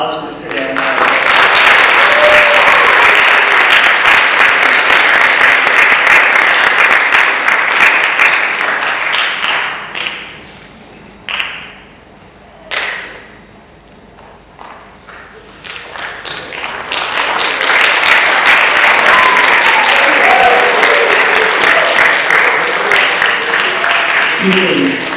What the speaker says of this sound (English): if we could get one big round of applause for Mr. Danahauer